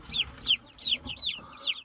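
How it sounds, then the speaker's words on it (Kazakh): Adler, Australorp and Brahma chickens cluck in quick, repeated bursts nearby, a steady run of short, clipped calls with no talking. "бізде мында балапандар адлер, сосын австралоп, сосын үй балапандары бар"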